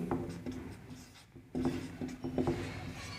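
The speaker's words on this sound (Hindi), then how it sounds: "यहाँ पे लिखेंगे हम लोग" Chalk or marker writing on a classroom board, a run of soft scratchy strokes and taps at moderate level with low room hum and no talking.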